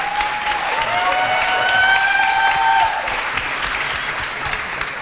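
Conference audience applauds a speaker, a full, steady wash of many hands clapping, with a few sustained tonal whistles or feedback tones rising over it midway before the clapping eases.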